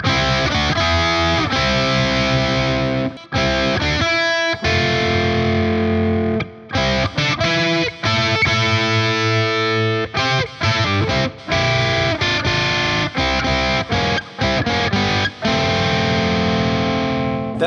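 Distorted electric guitar plays a part read from a tab book, the riff coming out wrong and clashing, loud and continuous with short gaps between phrases and no talking.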